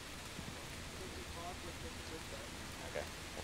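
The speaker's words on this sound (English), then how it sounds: "I'm guessing this rain will last for a minute." Steady rain shower falling outdoors on a golf course, a constant close hiss of drops with faint indistinct talk underneath.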